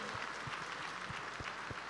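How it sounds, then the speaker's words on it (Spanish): Faint, distant applause from a congregation at a church seminar welcoming newcomers, a soft continuous patter with a few low thumps. "Aplausos para esos hermanos."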